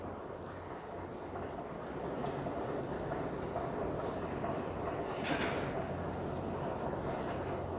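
Toronto subway train at the Main Street station platform, a low steady rumble with rattling wheel noise that grows slightly louder partway through, heard from the platform with no talk.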